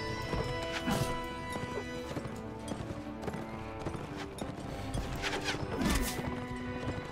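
A horse gallops with rapid clip-clop hoofbeats and gives loud whinnying neighs during medieval combat in Mount and Blade Warband, with crashes and clashes mixed in.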